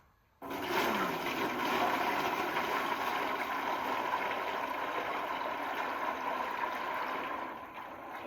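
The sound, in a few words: maple sap being poured into a boiling pot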